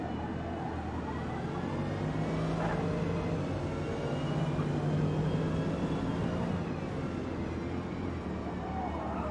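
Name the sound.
Corvette V8 engine accelerating in Forza racing game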